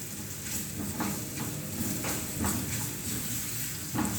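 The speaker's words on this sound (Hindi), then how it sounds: "अब इसके अंदर सब्ज़ मिर्चें ऐड करेंगे, इनको भी हल्का सा पका लेंगे" Green chillies frying in a pan for pinwheel samosa filling, a soft, steady sizzle with occasional stirring scrapes, fairly quiet and close.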